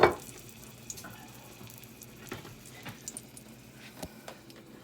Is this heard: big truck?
no